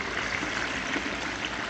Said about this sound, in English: So far our water flow is really good.